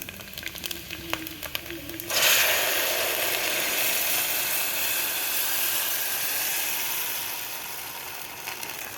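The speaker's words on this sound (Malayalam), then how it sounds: "നമുക്ക് ഇവിടെ കലക്കി വെച്ചിരിക്കുന്ന ഈ ബാറ്റർ ഇതിനകത്തോട്ട് ഒഴിച്ചു കൊടുക്കാം" Kalathappam batter poured into a pan over fried onions sets off a sudden loud sizzle that holds steady as a bright hissing fry after a few quiet clinks, fading slightly toward the end.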